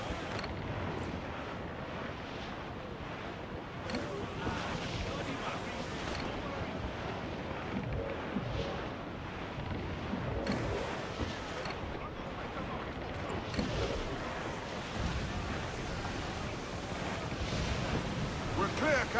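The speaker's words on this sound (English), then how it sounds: "Let's ride the squall!" Stormy sea swell and gusting wind roar steadily while a ship sails through a squall in Assassin's Creed IV, a broad, rushing wash of surf and wind that rises and falls in surges for the full length.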